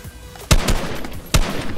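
Two loud, sharp gunshots from a Fortnite Season 5 match, roughly a second apart, each with a short decaying tail over a low game ambience.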